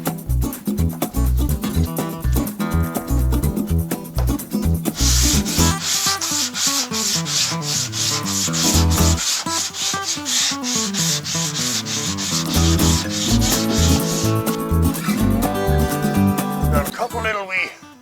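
Body filler on a Lincoln car body is sanded by hand with steady back-and-forth rubbing strokes, close and loud, with background music playing throughout and someone talking at points.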